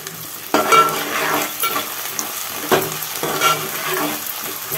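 Naatu kodi chicken curry with mint leaves sizzling in a pan while being stirred, loud close scraping sweeps recurring every second or two over a constant frying hiss, with no talking.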